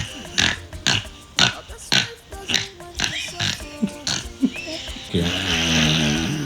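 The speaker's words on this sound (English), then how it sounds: "Snoring. You know, that sound that some people make when they sleep." A sleeping person snores in a rapid series of about a dozen close, rasping snorts, one after another, ending in a longer drawn-out voiced rumble.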